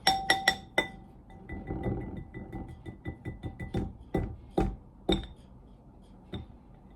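A whisk strikes the side of a bowl while mixing cupcake batter, giving sharp, bright clinks close by. A quick cluster of clinks is followed by scattered, uneven taps and scrapes with short pauses between them.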